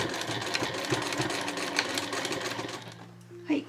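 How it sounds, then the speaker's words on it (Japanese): A sewing machine stitching through leather on a handmade cotton shoulder bag, a fast steady mechanical whir with rhythmic needle clatter that stops abruptly near the end. "革の上を縫うときはテフロン押さえなどに変えるとスムーズに縫えるようになります"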